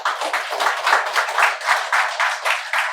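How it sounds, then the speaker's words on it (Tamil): An audience at a Tamil literary event applauds an author celebrated for a sixteenth book, the clapping loud and close with a regular, pulsing rhythm. "அவருக்கு ஒரு பெரிய கைத்தட்டல்கள் கொடுக்கலாம்"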